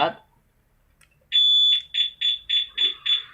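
Level 4 alarm tone of a LUMINOS A2 unit: a long piercing electronic beep, then five quick, evenly spaced beeps, loud and near. A short voice fragment is heard before the alarm starts.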